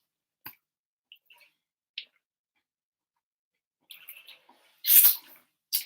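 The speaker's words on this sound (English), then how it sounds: "Let me drink a little bit more water." A person drinks water up close, with a few soft sips and small mouth clicks separated by quiet gaps, then a louder gulping swallow near the end.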